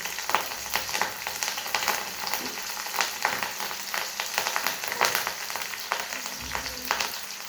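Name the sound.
green chillies added to hot oil with curry leaves, frying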